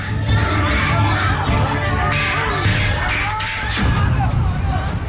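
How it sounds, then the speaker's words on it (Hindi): Loud crowd shouting and screaming during a mob attack on a man of Nigerian origin dragged from a house in Jagat Farm, Greater Noida, a dense continuous roar of agitated voices throughout. "शोर शराबा और चीख पुकार मची है।"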